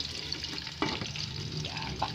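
Milkfish (bangus) steak frying in a pan at home, a soft continuous sizzle with faint stirring and scraping touches, fairly quiet and close.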